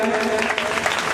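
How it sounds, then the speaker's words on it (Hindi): Applause from an audience at a religious katha gathering in Jodhpur, a dense, steady wash of clapping filling the whole brief moment. "जोरदार ताली बजाएं"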